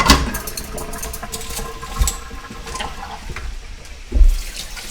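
Tap water runs into a kitchen sink while something is rinsed underneath, a steady close splashing hiss with a few louder knocks and clatters against the basin. Nobody talks.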